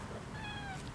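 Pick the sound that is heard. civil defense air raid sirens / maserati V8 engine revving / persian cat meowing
persian cat meowing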